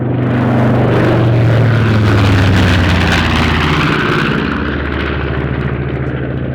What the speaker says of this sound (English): A surprise flyby by the only currently airworthy consolidated PB-4Y2 privateer.